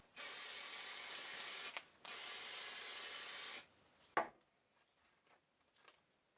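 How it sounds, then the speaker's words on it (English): Two long, steady hisses of spray mount adhesive aerosol sprayed onto the back of a paper template, separated by a short pause, followed by a click and faint handling sounds. "I sprayed the reverse of my template with some spray mount."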